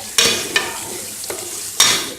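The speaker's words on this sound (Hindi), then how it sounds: "डालने के बाद अब हम इसको अच्छे से मिक्स कर लेंगे" Capsicum, potato and chicken sizzle in a hot pan as a spoon stirs them, with a few sharp scrapes and clinks against the metal.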